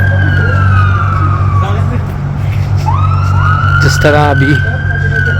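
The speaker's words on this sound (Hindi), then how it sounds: "एक एमरजेंसी गाड़ी गुजरी, एम्बुलेंस थी, अब ये वो थी फायर ब्रिगेड थी" Emergency sirens from an ambulance and a fire truck passing on a Toronto street, wailing tones sweeping up and down with a rapid yelp near the end, heard over steady traffic rumble while someone speaks briefly.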